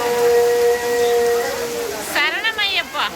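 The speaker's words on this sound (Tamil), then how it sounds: "மழை ஐயப்பன் சோதிக்கிறார் நம்மள" Rain falls steadily at a home during a Kanni Pooja for Ayyappan, a loud, even broadband hiss that carries on throughout, with people talking over it toward the end.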